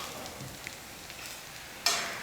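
Green gram dosa (pesarattu) cooking on a hot pan gives a soft, steady sizzle, with a sharper hiss bursting up near the end and no voices.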